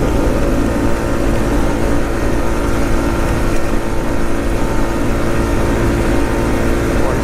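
A 2020 Honda Rancher 4x4 ATV running at top speed in fourth and fifth gear, a loud, steady engine roar with wind noise that holds constant throughout, with no talking.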